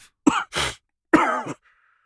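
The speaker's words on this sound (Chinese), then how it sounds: "你的咳嗽怎么越来越严重了" A man coughs and clears his throat, two or three short, harsh bursts close to the listener, with brief silences between them.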